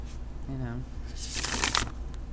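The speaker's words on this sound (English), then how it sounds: "Oh, shuffles beautifully." A Healing Waves tarot deck is shuffled briefly by hand, a close crisp rustling burst that follows a short spoken sound over a steady background hum.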